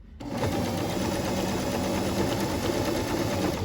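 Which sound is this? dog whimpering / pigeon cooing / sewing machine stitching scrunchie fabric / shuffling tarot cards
sewing machine stitching scrunchie fabric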